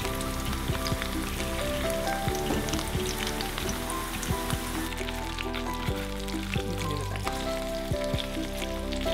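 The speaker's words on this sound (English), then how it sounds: "And you can hear it popping. Ready? So I fry those for about 2 minutes." Zucchini and carrot fritters frying in hot oil, a steady close crackle and sizzle with frequent small pops running throughout.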